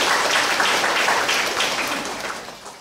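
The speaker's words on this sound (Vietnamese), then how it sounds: "Chúng ta cho một tràng pháo tay để chào đón những người tàn tật." An audience in a Buddhist gathering claps to welcome disabled guests, a steady close round of applause that gradually tapers off over a few seconds.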